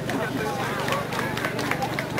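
Applause for the first contestant at an outdoor municipal festival contest, a moderate wash of crowd clapping mixed with murmuring voices, steady and somewhat distant.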